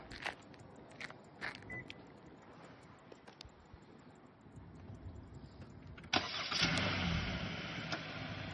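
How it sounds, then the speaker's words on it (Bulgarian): A Hyundai Santa Fe started by remote, preceded by faint clicks and small knocks, then the engine cranks and catches with a sudden loud burst before settling into a steady idle. "Колата пали, за да държите бутона на дистанционното."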